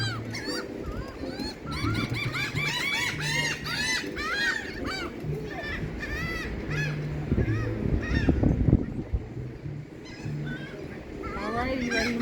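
A goose-like bird honks again and again outdoors, loud and close, in rapid bursts of nasal calls, while people talk over it and a child laughs.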